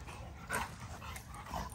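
Big teenage dogs make a couple of short whimpering yips at close range, brief vocal bursts over a soft, noisy indoor background with no talking.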